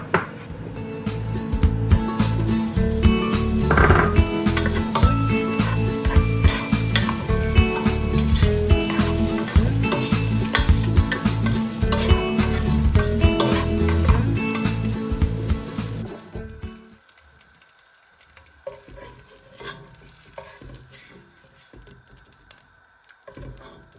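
Hotdog sausages fry in olive oil with a loud, crackling sizzle of dense spits and pops that runs for about sixteen seconds, then drops to a quieter sputter.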